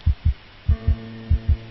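Heartbeat from the video game Light Heart: paired low thumps in a steady lub-dub rhythm, three pairs in quick succession, with a faint hum entering partway through and no talk.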